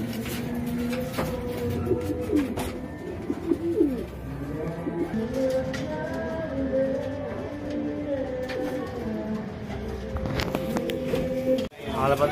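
Racing pigeons coo repeatedly in a loft, soft throaty rolling calls overlapping near and far, with some muffled movement and a brief thump near the end.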